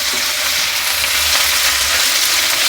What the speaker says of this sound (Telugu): అంతే అంత వేగిపోతుంది చూడండి అంత వేగింది కదా చూడండి